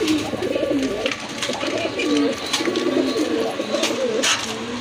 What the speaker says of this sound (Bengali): আর এক জোড়া রাজগোল্লা কবুতর খুবই সুন্দর